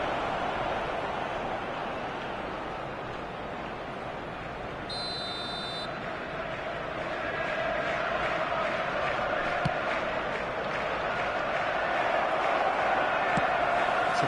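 A virtual crowd in the eFootball 2023 soccer video game cheers after a foul call, a broad, steady roar that swells louder toward the end, with a short buzzer-like tone early on.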